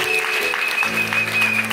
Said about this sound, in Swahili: Makofi kwa bishop leo.